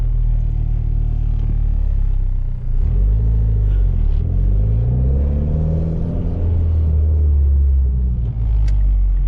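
A Mitsubishi Evo X GSR engine and exhaust rumble loudly up close, the engine idling low, then revving and settling in smooth sweeps before returning to a deep steady idle.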